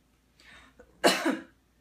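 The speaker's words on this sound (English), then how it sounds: "we encourage you to cough to clear any secretions you may have." A single person coughs, a soft throat sound followed by one sharp, close cough, in an otherwise quiet room.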